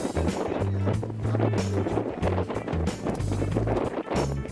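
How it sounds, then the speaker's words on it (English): Strong wind buffets the microphone outdoors beside a 14-foot Grumman aluminum boat, a loud, continuous low rumble with gusty surges throughout. "the wind is blowing like crazy out here"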